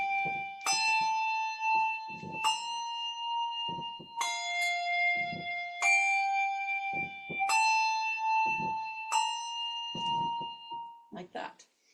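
Handbells rung in a weaving pattern chime in clear, ringing strikes about every second and a half, each tone sustaining into the next, with soft knocks and handling noise between them.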